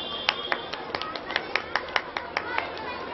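Scattered, irregular hand claps from an audience at a middle school prize distribution and cultural programme, sparse and light rather than a full ovation, with a voice talking over them.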